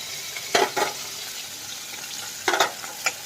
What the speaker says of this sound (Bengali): একটু কড়া করেই ভাজছি